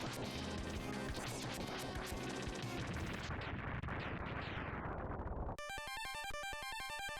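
Tornado Fang fired rapidly in Mega Man X, three drill shots at a time, over a loud, dense wash of crashing, smashing game effects that shifts into a steady chiptune-like tone pattern near the end.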